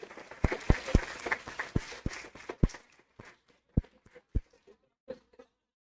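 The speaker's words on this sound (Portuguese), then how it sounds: "Conseguiu ouvir as palmas?" Scattered hand claps from a small audience at a comics history panel, with a handful of sharp, irregular claps that thin out and trail off into silence.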